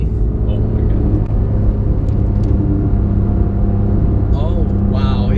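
Porsche GT3 engine holding a steady, loud drone through a quick corner at speed, with road rumble underneath and brief tonal sweeps near the end.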